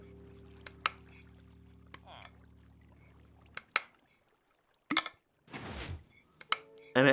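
Water sloshing and glugging through an aftermarket lid on a water bottle, a wet gurgling pour in the middle, with scattered clicks and knocks around it and a voice talking.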